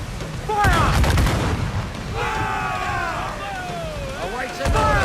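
Ship cannons in Assassin's Creed IV: Black Flag fire in heavy booming blasts at the start and again at the end, with shouting voices between the volleys.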